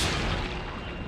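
A flashbang grenade going off in Resident Evil 4 Remake, a single loud broadband blast that fades over about a second, heard alone without talk.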